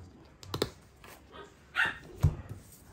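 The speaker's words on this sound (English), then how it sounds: "The puppy's playing." A playful puppy gives a few short, soft yips and barks indoors with irregular spacing and clicks and taps nearby, fairly faint.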